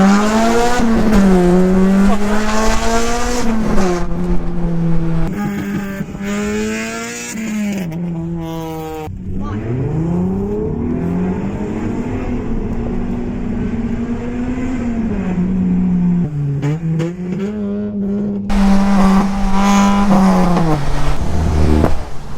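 A straight-piped Honda Civic EP3 Type R with an M2 Hornet exhaust blares very loudly from inside the car, revving up and down through repeated gear changes with rising and falling pitch, raspy and close, with no talking.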